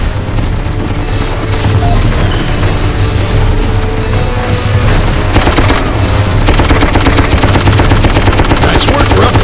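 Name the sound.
mounted gun firing cover fire in the video game Darkest of Days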